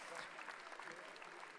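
Applause for a second-place graduate at a 2024 diploma ceremony, a steady wash of clapping from the audience, fairly faint and continuous, with a voice mixed in.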